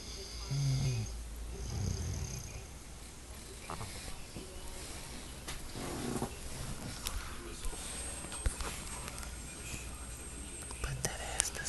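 A person snores in steady, rasping breaths under a continuous layer of talking, with occasional sharp clicks and rustles.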